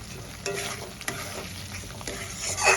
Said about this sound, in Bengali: এবার আমি ভেজে রাখা আলুগুলো দিয়ে দেবো। আলুগুলোর সঙ্গে দিয়ে কষাবো।